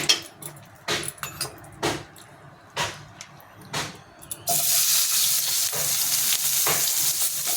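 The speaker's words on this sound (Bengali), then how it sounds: "এই তেলটাই আমি বেগুনটা ভেজে নেব" Home-grown brinjal frying in hot oil in a pan on a gas flame: several sharp clattering stirs and knocks early on, then a loud, steady sizzle that fills the rest.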